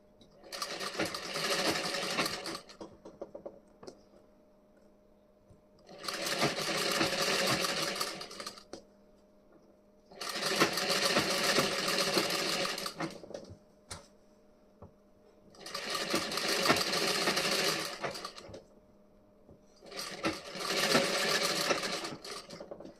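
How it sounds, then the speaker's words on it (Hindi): Sewing machine stitching the front part of a blouse, running in five separate bursts of a few seconds each, with short quiet pauses between them. The motor whirs loud and close. "ये हमारी इस तरीके से स्टिचिंग हो रही है। इसी तरीके से हमें स्टिचिंग करनी है।"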